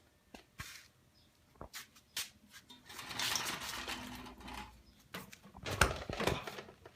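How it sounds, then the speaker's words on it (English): A Harbor Freight powered bead roller runs on sheet metal with a steady mechanical whir, alongside scattered clicks and knocks and a louder rattling burst near the end. "So this is the Harbor Freight powered bead roller."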